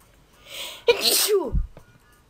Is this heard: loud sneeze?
yes